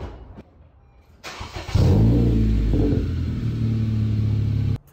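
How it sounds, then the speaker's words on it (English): A car engine starts in a home garage, then settles into a loud, steady idle and low rumble with slight revving, close by, before cutting off abruptly. "I moved my car out of the garage"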